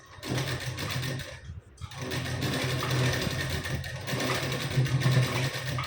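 A sewing machine runs a double line of stitching along the joined sleeve seam of a lehenga blouse, a steady close whirring hum that stops briefly once before resuming.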